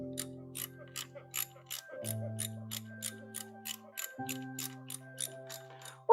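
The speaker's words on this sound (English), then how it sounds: "Can you guys hear my ratcheting?" A ratchet wrench ratchets steadily in a garage, quick regular clicks repeating evenly throughout, fairly faint and close, over a low background hum with no talk.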